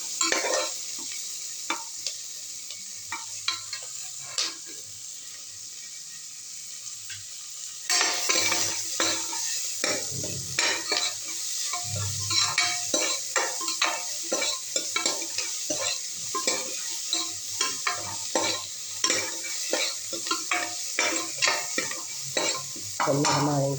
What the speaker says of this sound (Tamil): கொஞ்சம் பொன்னிறமாக வதங்கி வரட்டும்